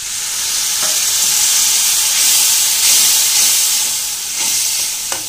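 Spiced water poured into a hot pan of cooking masala sets off a loud, sustained hiss of steam and sizzling that rises and falls slightly, with a couple of faint utensil taps and no voices.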